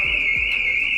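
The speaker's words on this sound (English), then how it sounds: "the alarm's going off" An alarm sounds continuously throughout, a steady high-pitched electronic tone that holds without a break for the full second, loud and close, with a couple of low thumps underneath.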